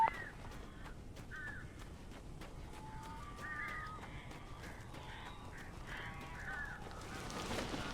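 Crows caw repeatedly in Alan Wake Remastered, harsh calls in short bursts scattered across a dark ambient backdrop, some nearer and louder, others farther off.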